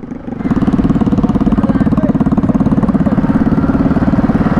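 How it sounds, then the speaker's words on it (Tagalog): A secondhand Yamaha Mio Sporty scooter with a loud aftermarket exhaust idles nearby, putting out a steady, rapid low putter that swells in after a brief quieter start. "ang ingay ng tambutso oh"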